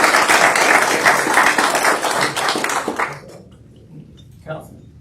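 A city council meeting bursts into a round of applause, brisk clapping for about three seconds that fades abruptly, leaving quiet room sound and a brief noise afterward.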